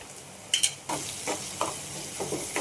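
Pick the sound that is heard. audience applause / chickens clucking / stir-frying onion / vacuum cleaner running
stir-frying onion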